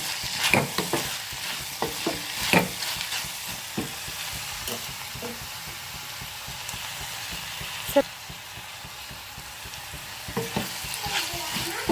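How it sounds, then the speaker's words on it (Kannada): Chopped tomatoes and vegetables for palak dal fry in a pan with a continuous sizzle and repeated spoon scrapes and stirring knocks, close by, and a voice talks over it at times. "ತರಕಾರಿ ಎಲ್ಲ ಚೆನ್ನಾಗಿ ಫ್ರೈ ಆಗಬೇಕು."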